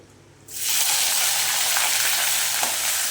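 Chopped onion dropped into hot oil in a wok, bursting into a loud, steady sizzle after a quiet start and holding strong throughout.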